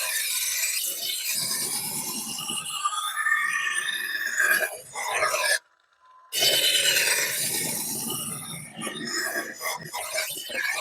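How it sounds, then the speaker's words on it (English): A kitchen knife is drawn again and again across a sharpening stone, making close, continuous gritty scraping strokes. The scraping stops for a short pause partway through and then starts again. "we've been sharpening for a couple minutes now"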